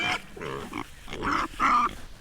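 Pigs grunt and snort in a farm pig pen, several rough, close grunts coming in uneven bursts with short pauses between them, loud and without talk.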